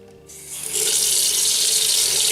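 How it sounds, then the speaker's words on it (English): A bathroom sink faucet in a renovated accessible bathroom is turned on, and after a brief quiet moment a strong, steady hiss of running water fills the rest of the clip, close and uninterrupted. "if I turn on the faucet"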